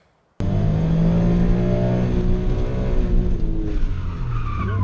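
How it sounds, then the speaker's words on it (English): An Autozam AZ-1 engine cuts in suddenly and runs loud and close, its drone climbing in pitch as the car accelerates, with some tyre noise. "So let's go for one last drive."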